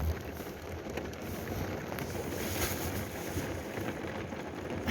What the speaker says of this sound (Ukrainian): Чуєте, може вам навіть чутно, як дощ лє.